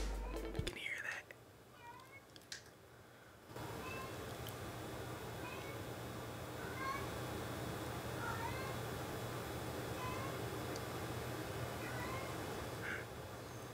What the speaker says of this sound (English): you guys are probably gonna hear my cat.